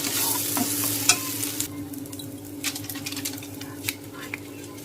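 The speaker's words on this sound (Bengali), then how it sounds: "যতক্ষণ না শুকিয়ে যায় কড়ার থেকে যতক্ষণ না ছেড়ে যায় সেই পর্যন্ত আমাদেরকে নাড়িয়ে যেতে হবে এটাকে" A spiced pea filling for kachori is stirred in a wok until dry, with repeated scraping and tapping strokes over a soft sizzle, busier at first and then sparser.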